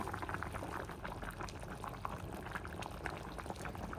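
Meat that has simmered for an hour and a half bubbles in an uncovered pot, a dense, even burble of boiling liquid, close and continuous, with no voices.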